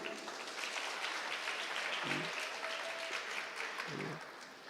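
Steady applause from a crowd at a national debate championship final fills the whole stretch, a dense, continuous patter of clapping that fades slightly at the end.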